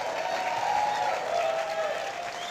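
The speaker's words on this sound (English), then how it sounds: "Let's hear a big round of applause for them." Studio audience applause at a late-night Saturday TV show, a steady, dense wash of clapping that holds at an even level throughout, with a faint voice underneath.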